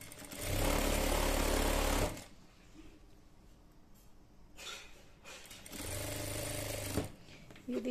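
A sewing machine stitches the edges of a satin protective bonnet, running loud in two steady bursts of whirring needle strokes with a quieter pause between them.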